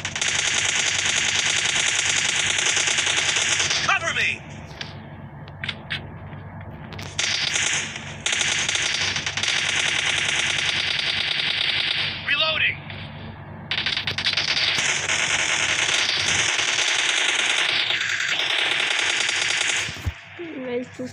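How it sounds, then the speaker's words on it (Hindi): Long, rapid automatic bursts from an M4 rifle in PUBG Lite team deathmatch, loud and dense, broken by a few short pauses. "M4 से इनके छक्के उड़ा दूंगा, ओनली M4"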